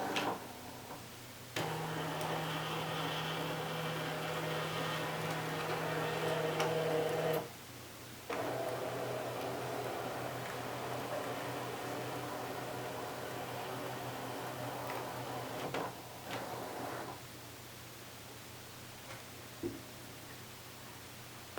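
A Brother ScanNCut machine cuts stickers with a steady mechanical whir and faint ticking carriage movements, broken by short pauses and shifts in motor pitch, close and fairly quiet.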